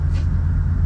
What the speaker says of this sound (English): Muffler's broken. Oh. It's loud.